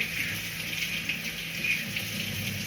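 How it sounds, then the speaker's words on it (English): Tap water runs steadily into a sink as a spatula is rinsed under it, a continuous close hiss and gush with slight fluctuations. "I'm just gonna give my spatula a rinse"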